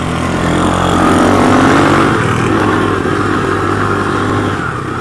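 A 1986 Honda ATC200X three-wheeler runs loud and close while being ridden, with a steady buzzing engine note that swells slightly under throttle and then eases off.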